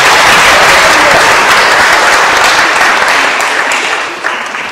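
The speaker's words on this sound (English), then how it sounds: "Could we please have a round of applause?" A church congregation at Christ Church Harrogate breaks into loud, dense applause during a Sunday sermon, sustained and close, tapering off in the final second.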